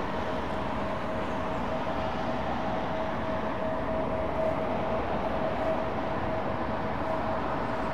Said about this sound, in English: Air Malta Airbus 320